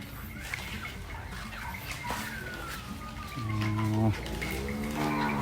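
Cattle moo loudly and close by, one long low bellow rising near the end over a quiet outdoor background with a few bird clucks, in a setting where an elephant stands nearby.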